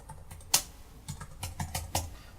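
Close computer keyboard typing while entering a command in the Reaper audio editor, one sharp keystroke followed by a run of lighter, uneven clicks.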